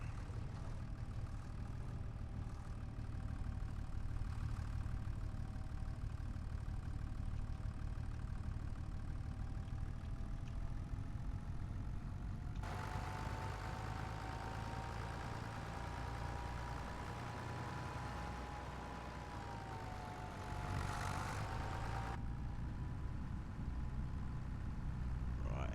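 A tractor engine out on farm ploughing work runs steadily at a low idle-like throb, close and continuous, rising briefly in pitch and load midway before settling again, with no talk.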